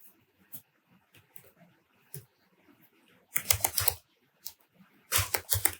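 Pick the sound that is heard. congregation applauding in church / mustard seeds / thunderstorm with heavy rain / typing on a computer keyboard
typing on a computer keyboard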